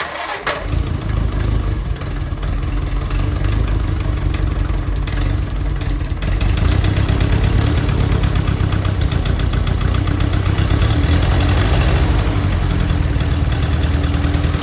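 An old Farmall Cub tractor engine, with a new filter fitted, is cranked after twenty years standing and catches partway through, then runs with a loud, steady, close-up idle.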